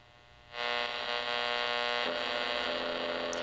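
A ViewSonic CRT monitor picked up as radio interference: a steady electrical hum laced with buzzing harmonics switches on abruptly and holds loud and constant, its tone shifting slightly partway through.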